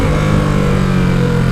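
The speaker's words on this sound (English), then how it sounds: "Engine braking" A 2017 Ducati Supersport motorcycle engine braking gives a steady, close mechanical drone, with the engine's tone holding level and sliding slightly lower as it slows.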